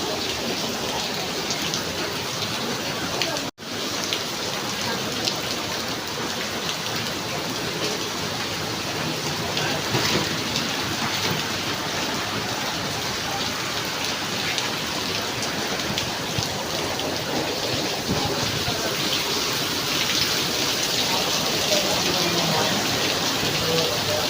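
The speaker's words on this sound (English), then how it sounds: "right now the restaurant is pouring very heavily" Heavy rain pouring outside a restaurant in Singapore during the rainy season, a loud, dense, unbroken hiss of downpour on surfaces with one brief dropout early on, steady throughout.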